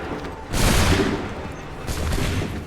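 Musket volleys in Assassin's Creed III Remastered, on a battlefield: two loud, broad crackling bursts of massed gunfire about a second and a half apart, each trailing off into a rumbling haze over steady battle noise.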